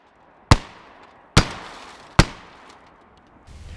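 Three loud, sharp shotgun blasts of 12-gauge double-aught buckshot fired into a car's quarter panel, evenly spaced with short decaying echoes between them, outdoors and close by.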